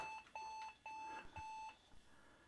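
An old 486 PC beeping during startup from its internal speaker: four repeated, clear high-pitched electronic tones in an even on-off pattern, each lasting about a third of a second, then quieter room noise.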